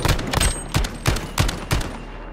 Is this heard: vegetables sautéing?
no